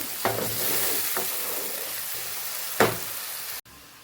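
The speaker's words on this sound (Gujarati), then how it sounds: "હવે સરસ આપણે ટમેટાને સાતડી લેવાનું છે" A loud, steady sizzle of tomatoes sautéing in a hot pan, broken by a few scrapes of a stirring spoon, then cutting off abruptly.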